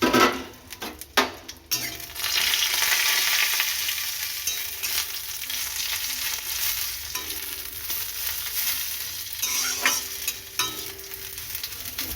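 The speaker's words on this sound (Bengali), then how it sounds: "একটু ভেজে নেব তেলে" Coriander leaves sizzle and crackle in hot oil in a home kitchen pan, a steady loud frying hiss after a few clatters of utensils at the start, with occasional stirring scrapes.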